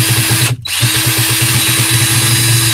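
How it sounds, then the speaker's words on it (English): Power drill driving screws into the yoke of a Star Wars Arcade1up cabinet during a StarCade mod kit install, a loud close whine running continuously with one brief stop and restart. "All right, so I'm gonna drill the yoke back down."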